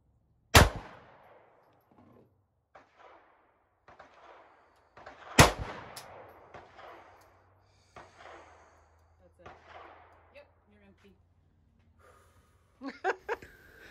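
Gunfire at an outdoor shooting outing: two sharp, loud shots roughly five seconds apart, each ringing off briefly, with quieter breaths and murmurs between them and a few smaller clicks and pops near the end.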